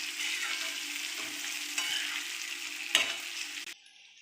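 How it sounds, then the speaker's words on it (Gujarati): Potatoes frying in a pan while being stirred, giving a soft sizzle with occasional scraping clinks of a spoon, ending abruptly. "હવે એને ધીમે ધીમે હલાવીને એક સરખા કરી લઈશું."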